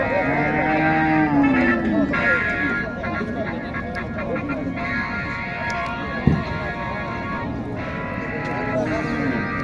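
Cows moo at the weekly Matajihat cattle market in Naogaon. Several drawn-out low calls rise over a steady crowd murmur, and people talk nearby throughout.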